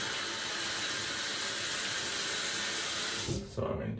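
Tap water runs steadily into a bathroom sink while soap is rinsed out during a wet shave, a continuous broadband splash and hiss that breaks off near the end.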